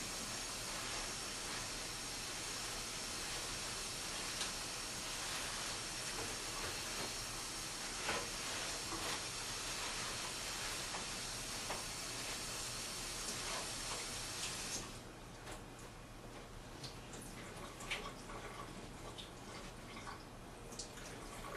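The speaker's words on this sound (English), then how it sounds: "we'll need to rinse our spinach with a colander over running water" Water runs steadily from a tap over spinach in a colander, a continuous soft hiss that goes on throughout, quietening slightly partway through with faint patters.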